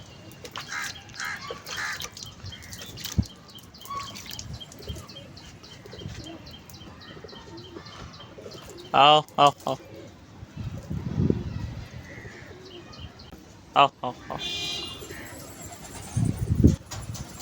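Pigeons in Karachi fly in and land while a man repeatedly calls to them, with bursts of wing flapping, soft cooing and chirps close by.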